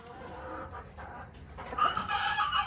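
Silver duckwing chickens cluck and call close by, busy overlapping clucks building into louder crowing toward the end, with no talking.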